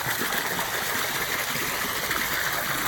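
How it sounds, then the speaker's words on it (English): Pool water drawn through the drain flows back into the spa as a steady, close rushing and trickling wash with no pauses. "We also have the pool drain down there, water sucking down there from there, and it's putting it back into the spa."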